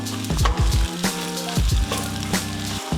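Garlic fried rice sizzling in a pan with mixed proteins, a steady frying hiss broken by repeated scraping, stirring strokes against the pan.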